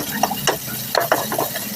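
Ginger being stirred and sautéed in a pan for tinola sa gata, a Filipino chicken soup, with a spatula scraping and clinking in a few quick separate strokes over a faint sizzle.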